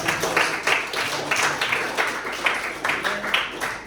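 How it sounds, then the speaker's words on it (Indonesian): Classroom clapping from a group of students, a steady run of sharp handclaps lasting several seconds at moderate loudness, fairly close, with faint voices underneath. "Tepuk tangan dong."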